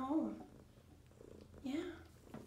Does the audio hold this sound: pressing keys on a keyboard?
no